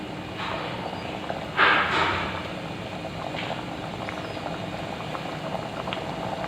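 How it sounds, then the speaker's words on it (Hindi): A pot of chickpea curry bubbling and simmering steadily at close range, soft gurgling bursts with a brief louder splutter early on, no voices. "इसमें थोड़ा उबाल आ जाए,"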